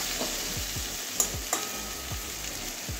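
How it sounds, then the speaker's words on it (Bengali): Okra and potato frying over medium heat in a covered pan, a steady close sizzle with repeated rhythmic stirring scrapes and a couple of sharp clinks, no talking. "ঢাকা দিয়ে দিয়ে ভাজবো।"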